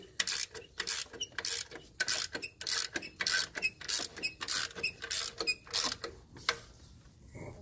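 A ratchet cranks the belt adjustment bolt on the 2.5 four-cylinder engine of a Jeep Wrangler TJ, sharp close clicking in steady rhythmic bursts of strokes for several seconds, no voices.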